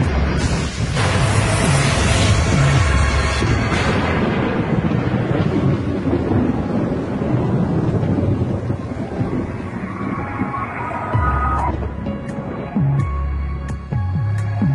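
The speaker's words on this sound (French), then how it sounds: "En plein milieu d'un orage." A thunderstorm over the southern United States, heard during the night of American Airlines flight 1420 near Arkansas: loud rolling thunder and wind-buffeted rumble with rain noise, several heavy crashes early, fading to lower rumbles, no speech.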